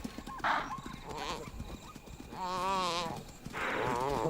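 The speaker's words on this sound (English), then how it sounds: "The chaser can hear the desperate bleat of a topee." A topi antelope caught by a lioness at night gives desperate, strained bleats, two or three wavering cries with harsh overtones, rising over a noisy background of a struggle in the savanna.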